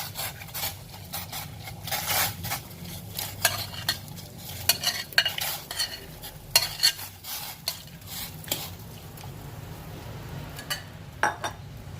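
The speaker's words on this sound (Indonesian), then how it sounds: "Airnya sudah mendidih, kita masukkan rebungnya." Bamboo shoots dropped into a pot of boiling water and stirred, with scraping, clinking utensil knocks and a bubbling simmer underneath, moderately loud and close, no talking.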